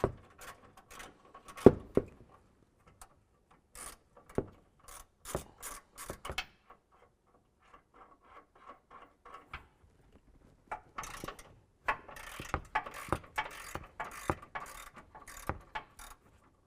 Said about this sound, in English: there's going to be 3 18mm nuts here, here, and then one on top that need to be removed